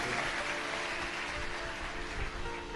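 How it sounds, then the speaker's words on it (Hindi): A crowd claps loudly and continuously for visiting saints at a Shiva katha religious gathering, a dense sustained wash of applause with no speech. "जोरदार ताली बजाकर संतों के लिए"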